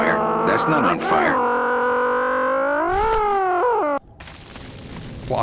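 A character in the video game Grim Fandango Remastered vocally imitates a car, producing loud, rising and falling revving drones in several bursts that end abruptly, followed by quieter background noise.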